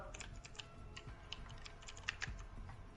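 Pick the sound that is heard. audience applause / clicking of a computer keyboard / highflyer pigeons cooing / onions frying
clicking of a computer keyboard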